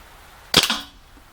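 A KWC M1911 or GSG 92 gas blowback airsoft pistol fires a single sharp, close shot with a short metallic slide clack and brief ring-out. Nothing else is heard around it.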